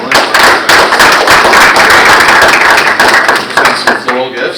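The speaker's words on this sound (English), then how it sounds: "So if we could just have a quick round of applause for our panelists." An audience gives a quick round of applause for the panelists after a talk on flowers. The clapping is dense and continuous, close and loud, and thins out near the end.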